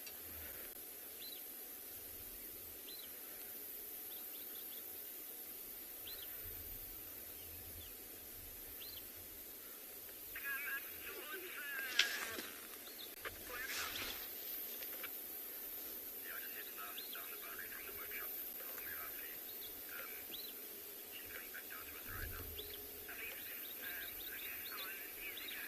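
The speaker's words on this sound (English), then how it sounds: "You can hear all the birds, the redback shrikes and puffbacks, all kind of alarm calling at them" Red-backed shrikes and puffbacks give alarm calls from a tree at Tswalu on a sunrise safari: faint, repeated chirps and scolding notes scattered over a steady outdoor hiss, with some soft talk.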